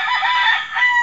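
A rooster crows once, close and loud, a single short strained cock-a-doodle-doo with no other sounds around it.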